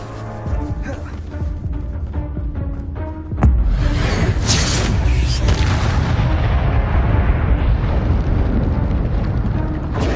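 Casting the Incendio fire spell in Hogwarts Legacy brings a sudden loud burst three seconds in, followed by a roaring, whooshing rush of flame that stays dense and steady to the end.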